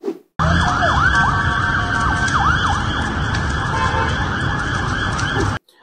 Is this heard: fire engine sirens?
yes